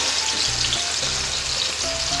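Fish searing in hot coconut oil in a pan, a steady, close, continuous frying sizzle with faint low tones underneath and no talking.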